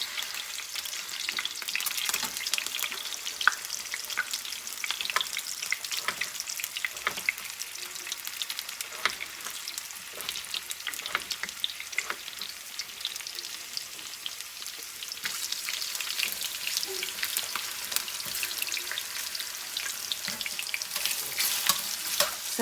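Potatoes frying in a pan with bacon, onion and green pepper give a continuous, close sizzle and crackle with scattered popping spatters, steady in level and with no voices.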